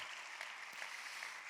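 A church congregation applauds during a sermon, a dense, steady wash of many hands clapping at moderate distance, unbroken for the whole short stretch.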